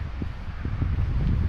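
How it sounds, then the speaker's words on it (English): Steady wind rushing and buffeting over the microphone on South Barrule on a grey, windy day, a low continuous roar with a few soft thumps, no voices. "It's a bit grey today and a bit windy."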